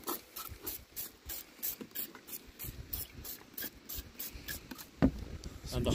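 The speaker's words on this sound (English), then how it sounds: "Spray all the valves." Aerosol spray hissing over the valves of a Ford 6810 tractor diesel engine during an overhaul, short repeated bursts in an uneven rhythm, close up, with workshop handling noises and one sharp knock near the end.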